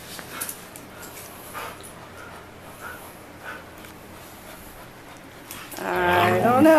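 Two dogs play-fight with soft snorts, grumbles and scuffling, then break into a louder whining yelp near the end, with a person talking faintly in the background.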